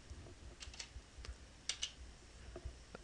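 Keystrokes typed on a computer keyboard, quiet and close, in short irregular bursts of clicks with pauses between, no voices.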